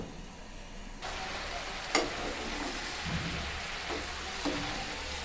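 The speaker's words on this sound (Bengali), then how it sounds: "আমি আবারও নাড়াচাড়া করে নিচ্ছি। এটা একেবারে নরম হয়ে আসছে।" A pan of broccoli and tengra fish curry is stirred as it cooks down, a quiet steady sizzle with a few soft scrapes and knocks of the spatula, fairly faint and unaccompanied by talk.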